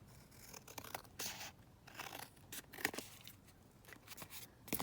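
Scissors cut through a journal card in quiet, close snips and crisp slicing strokes, spaced irregularly.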